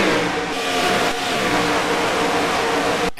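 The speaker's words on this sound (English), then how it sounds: "the cars passing through the back straightaway" Race cars in a NASCAR Nationwide Series video game roar past on the back straightaway, a loud sustained engine drone with rising and falling revs, cutting off abruptly at the end.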